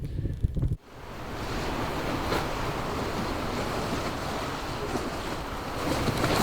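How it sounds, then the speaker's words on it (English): Steady rain and wind wash over a sailboat in the sailing game Sailwind, a loud continuous hiss starting abruptly after a short quiet moment and holding level to the end. "Yep, looks like it's rain."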